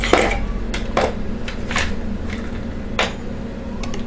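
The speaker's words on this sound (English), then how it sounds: "Stir it together." Juice in a glass stirred with a spoon, red and green parts mixed together: a few sharp clinks of metal against glass at irregular intervals over a steady background hum.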